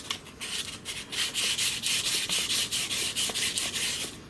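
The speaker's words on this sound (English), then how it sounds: "I like to hit that with a little 1000 sandpaper." Rhythmic back-and-forth strokes of 1000 grit sandpaper rubbing a metal air rifle piston part, a steady close-up scratchy rasp repeating about three times per second with no talk.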